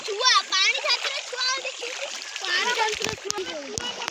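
Water splashes and sloshes close by while children's voices chatter loudly over it, ending in a few sharper splatters.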